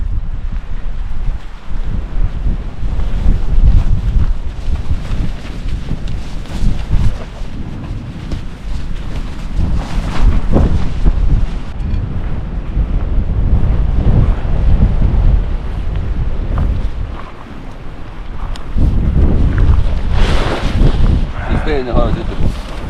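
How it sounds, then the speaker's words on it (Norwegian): Gusty wind buffets the microphone outdoors by the sea in eastern Finnmark, Norway, loud roaring rushes rising and falling with brief lulls, while people talk beneath it. "Det er en helvetes vind, så her må vi ha vindskydd"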